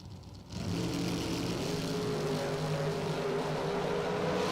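Loud, sustained engine roar from drag racing cars, a Mopar against a 1992 Pontiac Trans Am, rising sharply after a brief quieter start and holding steady at a door slammer race meet.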